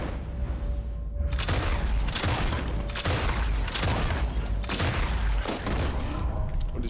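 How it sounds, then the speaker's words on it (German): Shotgun blasts with explosive ammunition fired at a panther in the video game Red Dead Redemption 2, several loud booming shots in quick succession with rumbling echoes, no talk over them. "mit ein paar Schuss aus der Flinte mit explosiver Munition lässt sich auch so ein Panther relativ easygoing"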